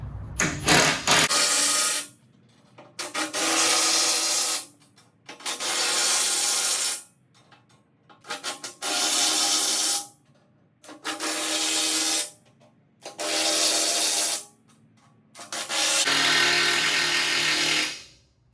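Bolts are tightened on the cutting edge of a John Deere 5075E tractor bucket, making loud, close rasping strokes. About seven rhythmic bursts, each roughly one to two seconds long, are separated by short pauses.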